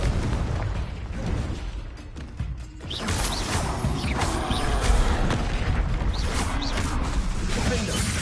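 Fiery blasts of the Confringo spell in Hogwarts Legacy, a dense run of booming bursts and crashes over a busy combat soundscape with a voice calling out spells.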